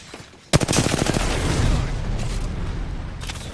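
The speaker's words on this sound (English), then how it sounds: "Getting shot at." Gunfire in Apex Legends erupts suddenly after a quiet moment, a rapid close burst of automatic shots that blurs into sustained, loud rattling and rumbling until the end.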